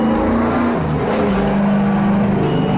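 A street-legal stock car with a swapped body drives slowly on a damp clay dirt track, its engine a loud, steady drone that shifts pitch as it accelerates.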